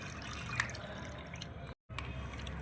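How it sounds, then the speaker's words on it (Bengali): Potatoes rinsed in water in a kitchen bowl, with steady soft splashing and dripping, a brief sharper splash near the start and a short gap of silence toward the end. "আরেকবার আমি জল দিয়ে ভালো করে ধুয়ে নেব আলুগুলো"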